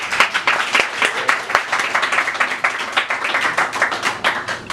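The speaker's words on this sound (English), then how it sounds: "Let's give them a round of applause." Audience applause at a sunrise yoga and seminar gathering, dense sustained clapping from many hands throughout, fairly close and lively, with no talk over it.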